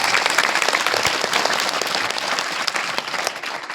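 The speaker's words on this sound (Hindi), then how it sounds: "सब बच्चे एक बार ताली बजा दो" A group of children clap together in a schoolroom or outdoor class setting, a dense, steady burst of applause lasting several seconds, loud and close with no voices over it.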